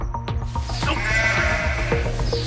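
A ram in Wales gives loud, close, wavering bleats, several calls rising and falling over one another with faint background rustle.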